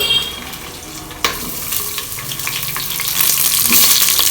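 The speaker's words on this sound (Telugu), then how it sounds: "ఇందులో నేను ఇప్పుడు ఇవన్నీ ఫ్రై చేసుకుంటున్నాను." Vegetables and green chillies fry steadily in a pan, a continuous sizzle that swells louder toward the end, with a brief stirring knock early on and no voices.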